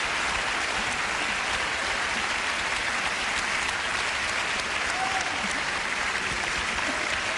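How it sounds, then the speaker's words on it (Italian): A television studio audience claps for the pianist Giovanni Allevi, a continuous, even roar of many hands that stays constant and fairly distant throughout, with no talking heard over it. "L'applauso del pubblico."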